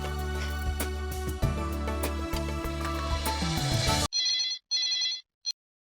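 A telephone rings after a loud, dense stretch of sound cuts off: two electronic trilling bursts and then a brief third, clear and close, with no one speaking.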